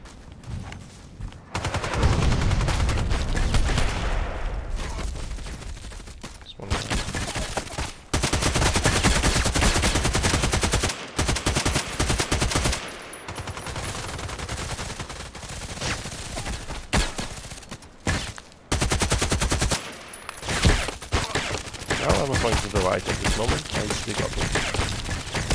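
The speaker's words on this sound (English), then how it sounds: "They're shooting at me." Rapid automatic rifle fire from an AK-12 assault rifle in the online shooter Contract Wars, loud near bursts repeating across the whole stretch with brief pauses between volleys.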